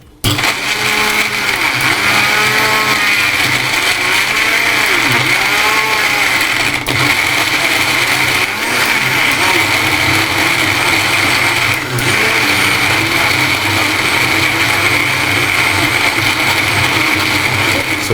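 A blender runs continuously blending a milk mixture, a loud steady motor whine with grinding, churning pulses, close up and unbroken throughout.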